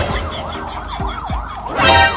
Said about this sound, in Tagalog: So antayin lang natin itong ambulansya.